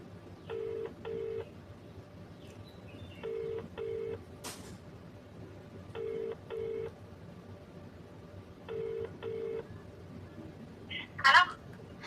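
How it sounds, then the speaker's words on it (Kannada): A phone call rings on the line with the double-pulse ringback tone, repeating four times at an even pace, fairly soft, with a faint burst of noise near the end. "ರಿಂಗ್ ಆಗ್ತಿದೆ ಈಗ"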